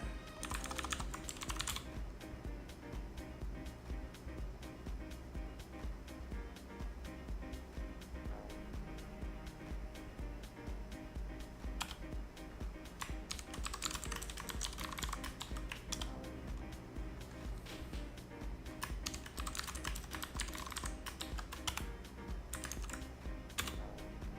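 A computer keyboard clatters with quick, irregular keystrokes as a command is typed, close and continuous over a steady low hum, with denser bursts of clicks near the start and the end.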